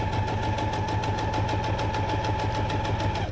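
A sewing machine stitches through a paper tag, its motor humming steadily with rapid, evenly spaced needle pulses throughout, close and continuous, with no talking.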